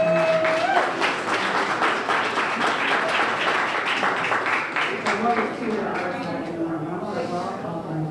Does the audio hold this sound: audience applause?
yes